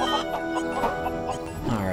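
Chicken clucking in the Lego Worlds video game, a short run of choppy clucks over steady game music.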